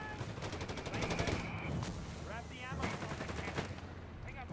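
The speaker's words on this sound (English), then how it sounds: "MD-42 firing at the captain" An MG42 machine gun fires in rapid bursts during a Company of Heroes 3 battle, its rattle mixed with other gunfire and battlefield noise under a commentator's continuous talk.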